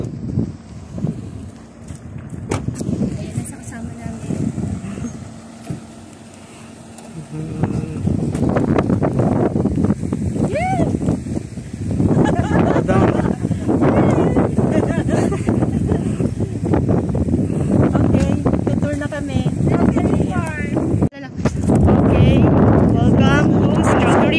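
Gusty wind buffets the microphone in loud, rumbling blasts at a strawberry farm, growing stronger partway through, with people talking underneath.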